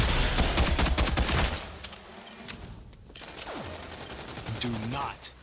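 Gunfire in the video game Rogue Company, a dense burst of rapid shots up front that breaks off, then scattered effects and game sounds, with a voice talking over parts of it.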